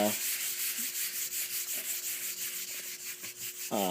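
Fingers rub talcum powder into a sticky rubber surface with soft, close, repeated scuffing strokes in a quiet, even rhythm.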